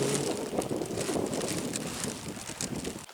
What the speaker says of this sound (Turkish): Evet karayel esiyor. Bayağı arttı yalnız şu anda.